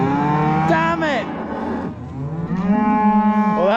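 Cattle moo loudly and close by, several drawn-out lowing calls one after another with brief pauses between them.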